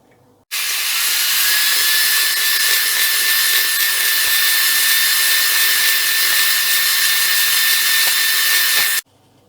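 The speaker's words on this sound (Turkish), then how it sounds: "Şimdi yumurtaların beyazlarını önce iyice kar haline gelinceye kadar çırpacağız." An electric mixer whisks egg whites for a soufflé, a loud, continuous high whir that starts abruptly, runs steadily for about eight seconds and cuts off, close with no talk.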